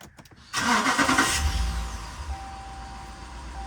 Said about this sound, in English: back of the truck for the first start up since the swap